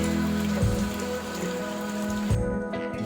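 Steady, heavy rain pours down continuously over a terrace garden, a dense wash of broadband patter with no voices, loud and close throughout.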